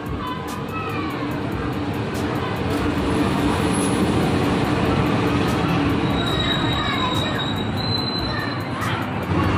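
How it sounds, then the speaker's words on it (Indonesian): The Serayu passenger train rumbles steadily into Tasikmalaya station, Indonesia, with faint high squeals of wheels and brakes and a constant broadband roar; voices murmur faintly beneath it. "Kereta Serayunya udah nyampe ya di stasiun Tasikmalaya."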